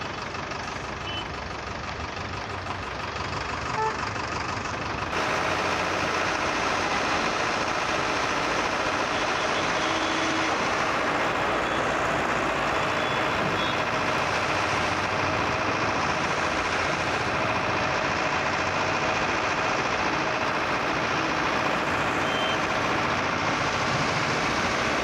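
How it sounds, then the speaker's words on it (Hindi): A tow truck's engine idles and rumbles steadily while a broken-down Tata Nano with a snapped timing belt is loaded onto it. The mechanical noise is loud, broad and continuous, with no talking. "और अभी ट्रक के ऊपर इसको लोड किया जाएगा।"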